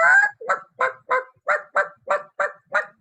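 A person vocally imitates a chicken's clucking: about nine short, throaty, evenly spaced clucks in quick rhythm, close and fairly loud, with no other sound around them.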